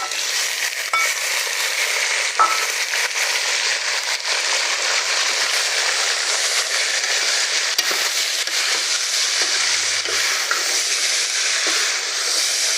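Chicken frying in a kadai with browned onions gives a loud, steady, dense sizzle with crackling spatter that runs continuously and close up, with occasional faint stirring knocks.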